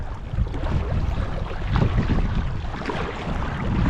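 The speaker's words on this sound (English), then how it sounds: "Oh, there goes the wind." Wind blows steadily across the microphone while a Tucktec folding kayak is paddled on open water, a continuous close rushing buffet with no talk.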